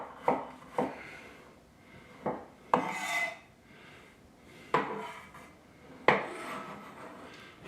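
A kitchen knife cutting small, thin carrots into rounds on a board, sharp thuds and scraping strokes at uneven intervals, close and clear, no voices.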